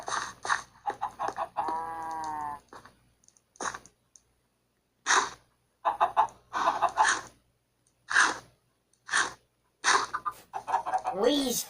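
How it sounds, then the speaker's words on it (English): Clucking chickens in Minecraft sound in short repeated bursts separated by quiet gaps, mixed with a drawn-out, wavering call from another animal. "We's feeding them chickens"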